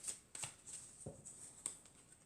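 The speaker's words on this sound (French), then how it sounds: "Alors ensuite, je vais prendre encore 4 cartes." Oracle cards being shuffled and drawn, a few quiet, close riffles and soft card slaps spaced out over a couple of seconds, with no talk.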